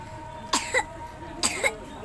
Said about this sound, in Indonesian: Kok batuk deh.